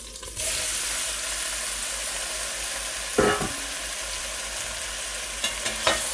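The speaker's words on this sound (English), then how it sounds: "I have a little bit of oil in my cast iron skillet here. Just gonna sorry about the scrape, guys. And I'm just gonna brown my beef." Beef browning in oil in a cast iron skillet, an even close sizzle throughout, broken by a couple of short metallic scrapes from a utensil against the pan.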